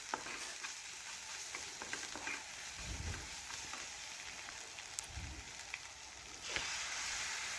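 Ground spices (turmeric, chilli and coriander powder with salt and cumin paste) frying in oil in a pan, giving a faint, steady sizzle broken by two soft stirring scrapes and occasional light clicks.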